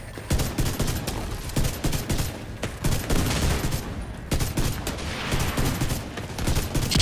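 Dense bursts of gunfire from The Division 2 during a raid, rapid overlapping shots and volleys crackling steadily throughout with no pause, loud and close.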